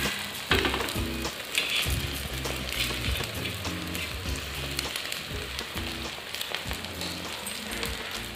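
A fish egg omelette fries in a pan with a steady crackling sizzle, close and continuous, over soft background music.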